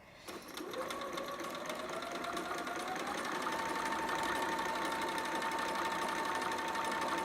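A sewing machine stitches fabric at a steady, fast mechanical whir, starting up and running continuously at close range with no talking.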